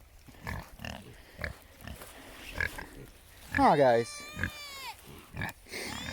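Pigs on a pasture farm grunt and oink in a burst of squeals midway, with a few softer grunts around it, while a person talks over much of it.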